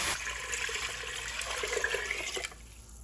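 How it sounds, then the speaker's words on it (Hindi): Water pours steadily into a pot of dal for a Rajasthani dal dhokli, a close, splashing gush that runs for a few seconds before tapering off to quiet. "अब हम इसमें 8 कप के आसपास पानी डालेंगे।"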